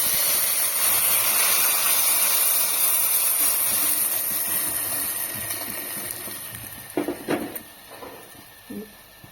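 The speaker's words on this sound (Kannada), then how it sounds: "ಬಟ್ಟೆ ಒಗೆಯೋ ಸೌಂಡ್ ಬರ್ತಿದೆ ನೋಡಿ ನಮ್ಮ ಮನೆಯಲ್ಲಿ" A home washing machine churns clothes nearby, a steady hissing, sloshing mechanical drone that fades gradually, then gives way to a few clunks and knocks at the end.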